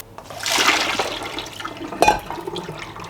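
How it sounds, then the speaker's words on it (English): Running water rinses greenhouse seeds, a steady close splashing rush that swells in the first second, then trickles and sputters with a brief louder splash near the end. "I'm gonna give these a quick rinse"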